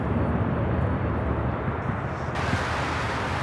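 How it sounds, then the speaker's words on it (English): An American Airlines Airbus A321, seven years old, roars steadily on its landing approach, a loud broad rumble and hiss that holds for the whole stretch with no talk. "7-year-old aircraft coming in for landing."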